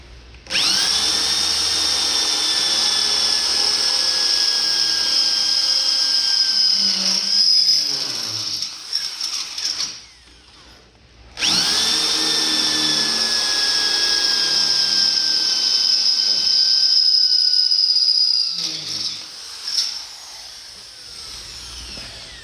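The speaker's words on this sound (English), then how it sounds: "now let's drill these other two holes" A power drill whines loudly and steadily as it bores holes through a steel truck frame, stops briefly, then runs again for a second long drilling pass.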